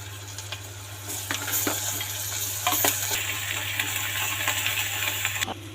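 Masala paste sizzling and frying in a pan for a colocasia leaf (alu) curry, a steady close crackle over a low hum with occasional stirring clinks and scrapes.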